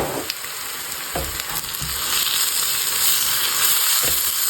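Kerala-style masala with pepper frying in a pan for mutton curry, giving a loud, continuous sizzling hiss with a few dull stirring scrapes and knocks mixed in.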